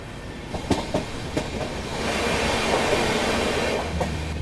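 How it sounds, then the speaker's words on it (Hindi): A Shatabdi Express on Indian Railways rolls steadily along the rails, heard from inside a coach as a loud continuous rumble with rhythmic clickety-clack wheel beats, growing heavier midway, with no talking. "ये ट्रेन हमारी मुड़ चुकी है अरेकुलम साइड"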